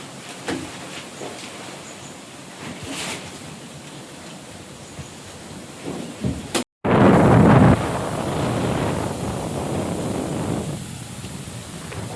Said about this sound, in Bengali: পুরো হাওয়া ছেড়েছে, এত ছোটোখাটো জিনিসপত্রটা দিলেই উড়ে পড়ে যাচ্ছে